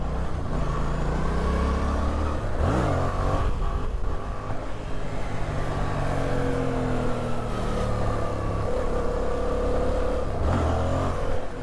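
A Yamaha FZ-07 motorcycle revving hard during a wheelie, its loud engine note rising and falling through throttle changes with a steady roar of wind and road noise throughout.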